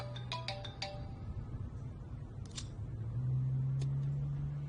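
A phone ringtone chirps in quick bright bursts at the start, then more tones sound later over a low steady hum, with no talking.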